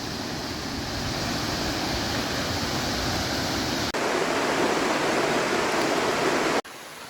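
Steady, full rushing of creek water flowing nearby, constant and fairly loud with no voices.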